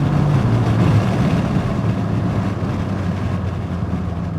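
BMW M5 F10 with a 4.4-litre twin-turbo V8 accelerating through a gear change: a loud, steady low engine rumble from inside the car that eases off slightly toward the end.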